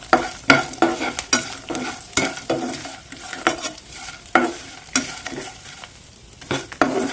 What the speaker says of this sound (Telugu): ఉల్లిపాయ ముక్కలు కొద్దిగా ఇలా కొద్దిగా కలర్ వచ్చే వరకు వేయించుకోండి